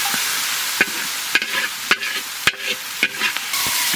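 Ginger and green chilli dropped into hot oil, frying with a steady background sizzle broken by about six sharp, evenly spaced stirring clacks of a spoon against the pan, close and fairly loud.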